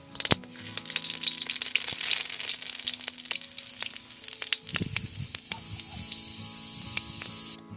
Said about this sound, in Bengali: ফোড়নের জন্য দিয়ে দেবো শুকনো লঙ্কা চেরা